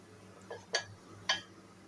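Semolina and spinach pakora batter is stirred in a bowl, giving a few soft, close clinks of a spoon against the bowl over quiet room tone.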